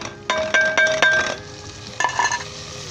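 Chicken frying with spices, green chillies and tomatoes in a pan, scraped and stirred in bursts over a steady sizzle, close and loud with clanking metal, no voices.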